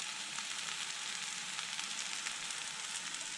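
Palm sugar and curry paste sizzling in a pan for a green chicken curry, a steady bright crackle and hiss throughout with no pauses, close and alone.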